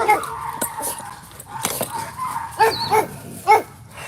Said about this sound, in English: So somebody's walking by the fence, and the dogs are convinced that it's a Hamas terrorist.